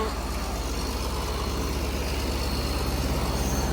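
A Hino six-cylinder 240 hp diesel engine drives a eucalyptus bark shredder through a reduction gearbox, giving a steady, loud, close low rumble with a constant pulsing throb throughout.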